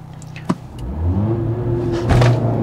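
A turbocharged Mercedes CLA45S AMG accelerates hard from inside the cabin, a brief click giving way to a steady, loud engine drone whose pitch climbs as the revs rise.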